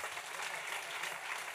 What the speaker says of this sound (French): Un bel applaudissement, s'il vous plaît.